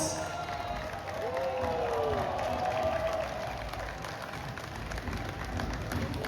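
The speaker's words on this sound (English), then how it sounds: "applause." Crowd at an NBA House basketball event in Macau applauds and cheers as an NBA legend and Hall of Famer steps onto the court, a steady dense roar of clapping and voices with a whistle-like tone rising through it.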